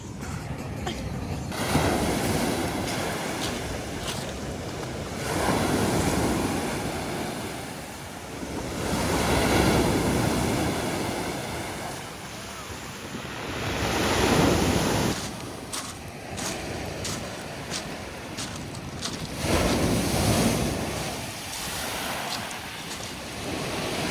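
Sea waves breaking on a rocky shore at Kabak Bay, repeated surging crashes every few seconds with heavy wind noise on the microphone, loud and close, swelling and fading in cycles.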